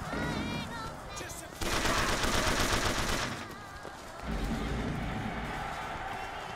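Burst gun in Bioshock Infinite firing a loud, dense salvo of rapid shots lasting a couple of seconds, followed by a second rattling stretch amid game noise and music.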